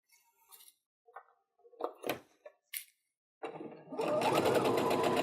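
After a few light clicks and taps of handling fabric, a sewing machine starts up close and runs fast and steady, stitching a split nine patch quilt block.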